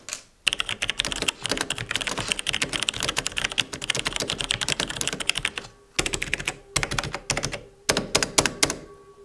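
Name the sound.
typing on Logitech G613 keyboard with Romer-G switches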